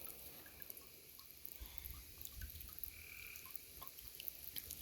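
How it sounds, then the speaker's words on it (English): Out in the woods at night, a frog or toad croaks in a steady series of faint, distant calls over quiet background hiss. "The frog, the toad in the woods, it's being loud again"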